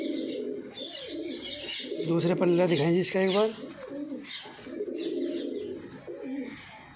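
Pigeons coo in soft, rolling bursts close by while someone talks over them, with a few higher chirps mixed in.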